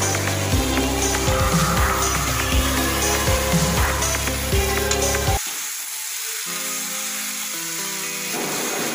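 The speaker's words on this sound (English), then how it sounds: "Mix all the ingredients gently for 5 to 6 minutes." A jackfruit mixture fries and is stirred in a pan, a steady sizzle with scraping under music that cuts out midway, leaving quieter sizzling and tones.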